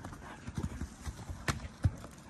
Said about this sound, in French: Avec un gros cheval.